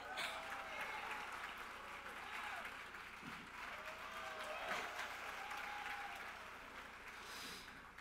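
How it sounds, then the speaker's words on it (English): Guests at a balloon convention gala awards dinner applaud in a steady, fairly faint round of clapping that continues evenly for several seconds, with scattered voices mixed in. "a warm welcome of applause for our puppeteer"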